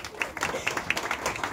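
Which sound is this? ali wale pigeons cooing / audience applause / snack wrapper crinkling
audience applause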